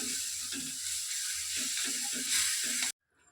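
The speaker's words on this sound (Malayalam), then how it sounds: "നല്ലപോലെ ഒന്ന് ഇളക്കി കൊടുക്കാം." Plantain erissery curry stirred in a pan, a constant sizzling hiss under a run of rhythmic scraping strokes, close up, ending abruptly.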